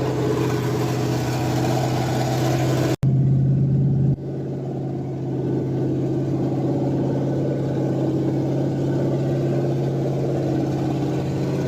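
A Ford F100 302 V8 with a comp 268H cam running on open headers during cam break-in, a loud steady idle rumble with a brief hard cutout and then a slightly lower, continuous idle.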